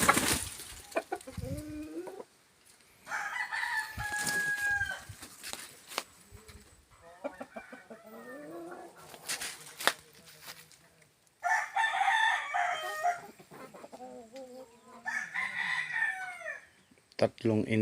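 Several roosters crow in loud bursts, separated by quieter stretches of hens clucking nearby, at a house in Pakil, Laguna.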